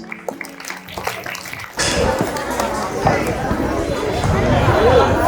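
A crowd at a high school farewell day bursts into loud, sustained clapping after a speaker's voice, and the clapping builds slightly toward the end.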